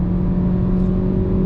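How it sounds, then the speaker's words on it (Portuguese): A 2026 Nissan Versa Exclusive with a naturally aspirated engine pulls hard at full throttle, giving a steady, loud, low engine drone with a constant tone and no talking. "Então vamos fazer uma aceleração aqui de 100 por hora, ó. Diminuindo, ó, pé no fundo"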